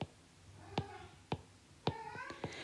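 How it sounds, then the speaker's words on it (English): A pet cat meows close by, giving four short meows over about three seconds against a quiet indoor background. "Kima, my kitty again."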